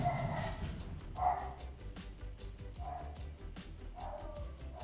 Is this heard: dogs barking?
yes